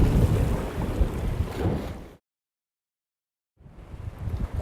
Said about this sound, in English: with an ocean breeze blowing, the tropical sun settling in the west